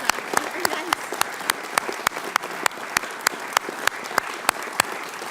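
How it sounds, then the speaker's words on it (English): Applause rings out at a press conference on the 9/11 health bill, a steady bed of clapping punctuated by sharp, evenly spaced camera shutter clicks, with no voices. "Now, let's have a round of applause"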